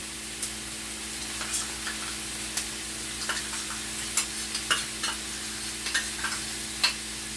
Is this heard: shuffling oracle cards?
no